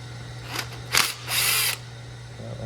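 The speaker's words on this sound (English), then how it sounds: "Next we need to take the 2 ground strap bolts off." Power tool removing ground strap bolts from a Toyota 2.4L engine: a couple of short loud whirring bursts close by, then a longer sustained spin, over a steady low background hum.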